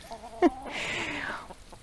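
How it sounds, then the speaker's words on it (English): A rooster nearby gives a brief cluck and then a drawn-out crow that rises and falls over about a second, moderately loud against a quiet indoor background. "sorry, I have a rooster invasion"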